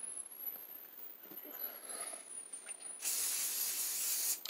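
Quiet rustling and faint clicks, then a steady hissing spray from a spray bottle onto a curly wig's hair bursts in near the end, close and fairly loud.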